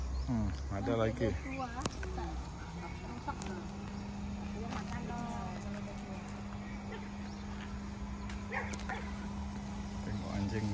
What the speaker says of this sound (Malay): Oh, tengok dia punya anjing ni.